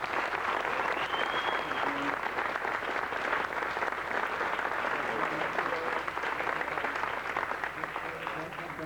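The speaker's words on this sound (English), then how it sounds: "How about a nice round of applause for John Robinson?" Steady applause from a drum clinic audience greeting drummer John Robinson fills the room, a dense, even wash of many hands clapping that continues without a break for the whole stretch.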